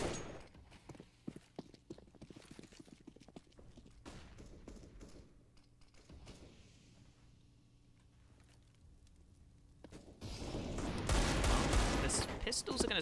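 AK rifle gunfire in a Counter-Strike match, faint scattered shots and bursts at long range, followed by a louder burst of noise near the end, under a caster's commentary.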